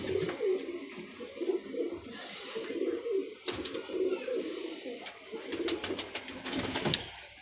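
Pet pigeons of the Kamagar and Golden Teddy breeds coo repeatedly in soft rolling calls, several birds overlapping nearby, with occasional sharper chirps and wing or cage rustles and no speech.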